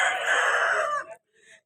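A rooster crows once, loud and close, at a Sunday rooster market in Vijayawada, the call lasting about a second before a brief faint cluck.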